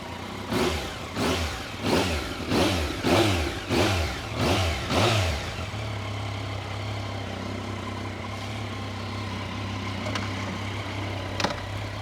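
Yamaha MT-09 motorcycle with 17,000 km on it, revved in about eight rhythmic blips before settling into a steady, low idle that hums on alone, close and fairly loud.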